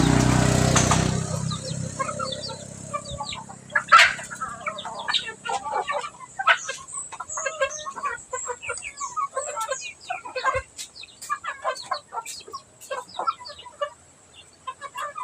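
Chickens cluck and chirp steadily while being fed, a busy flock of overlapping calls close by, with a faint voice near the start.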